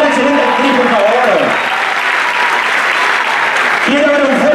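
Audience clapping at a choreographed dance show, a loud, sustained wash of applause with a voice speaking over it at the start and end.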